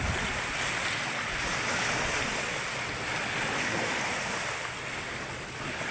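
Sea waves driven by a cold amihan wind, a continuous roaring wash of surf mixed with heavy wind buffeting the microphone, steady and loud throughout with no voices.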